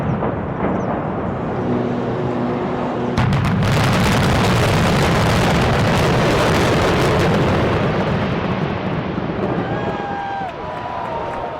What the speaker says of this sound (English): Watch the moment the iconic Sheraton Crossroads Hotel in Mahwah, New Jersey is demolished in a powerful, controlled explosion.